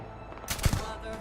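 A short burst of gunfire in the video game Starfield during hardcore survival mode combat, two or three sharp shots close together over a steady game background.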